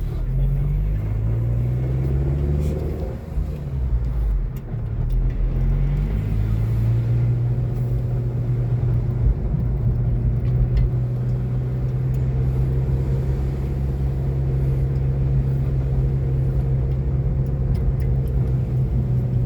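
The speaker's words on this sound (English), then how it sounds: "I'm going to take this bit very slowly, otherwise I'll take out my mufflers like that." A car with low-slung mufflers crawls slowly around suburban corners, its engine giving a steady close low rumble with slight rises in revs throughout.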